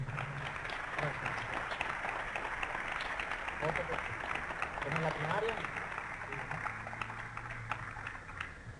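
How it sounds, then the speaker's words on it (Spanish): Steady applause from an audience filling the room at a convention opening in Puebla, continuous and moderately loud, with a voice speaking over it. "Un aplauso para él."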